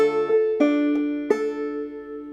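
Banjo picking the tune Hog Eyed Man with brush-thumb and skip strokes: a few bright, ringing plucked notes and strums spaced unevenly, each left to sustain and decay, close and clear with no talking.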